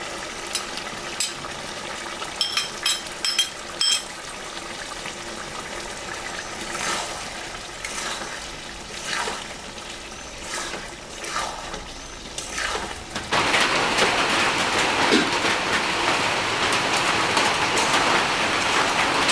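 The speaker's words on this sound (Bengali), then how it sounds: "কাঁঠালটা সিদ্ধ হয়ে গেছে আমি এখন চর্বিটা দিয়ে দিব" Goat fat hits a pan of boiled jackfruit and a loud, steady sizzling hiss suddenly swells and keeps going. Before it, quieter bubbling and light clatter are heard, with no talking.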